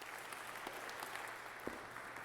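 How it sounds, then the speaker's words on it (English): Applause rewarding a player for tossing a can into a garbage can in a homemade mascot horror game about littering, a steady wash of clapping held at a low, even level for a couple of seconds. "you will simply be applauded for being a good citizen"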